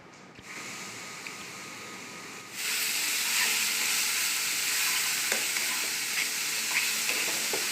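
Leafy greens (shak bhaji) fry and get stirred in a pan: a faint start, then a sudden loud sizzling hiss that holds steady, with light scraping clicks from the stirring.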